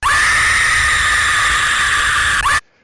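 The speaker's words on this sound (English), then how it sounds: "I did not expect Pinky to be a straight up scream" The Pinky character in the Sprunki video game lets out a long, loud, steady scream that holds for over two and a half seconds, rises sharply at the end and then cuts off abruptly into silence.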